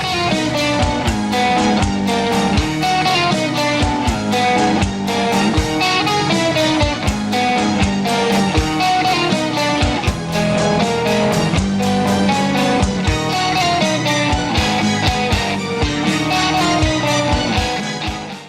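Electric guitar riff from a song, played loud and dense with a driving rhythmic pulse that runs steadily throughout, with no talking.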